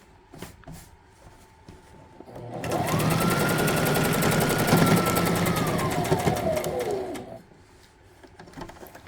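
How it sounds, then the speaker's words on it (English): An electric sewing machine stitching trouser fabric runs in one steady whirring burst of about five seconds, rising and then winding down, loud and close, with faint bird cooing in the background. "Now I will remove the safety pin and then pull properly and stitch."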